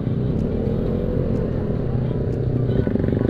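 Engines of many motorcycles hum and drone close by in dense night traffic during a Takbir-eve ride, a steady loud rumble with no clear pauses.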